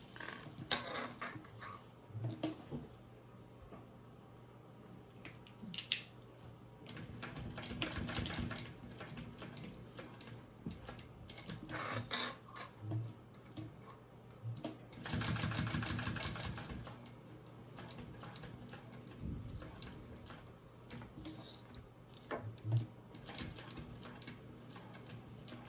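A sewing machine stitches a waist bag in intermittent bursts of rapid, faint mechanical whirring, separated by quieter pauses with small handling clicks and rustles.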